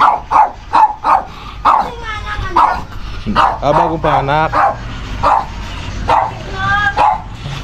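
A fierce dog barks in repeated sharp bursts and whines up close, with people talking over and between the barks.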